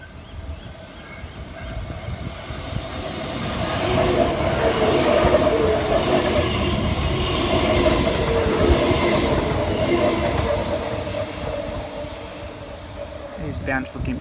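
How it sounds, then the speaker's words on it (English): An Intercity Express train rumbles through a station platform at speed, the roar swelling and fading with clattering wheels and brief squeals, while a station announcement voice plays over it. "we have an Intercity Express train passing through platform number 2"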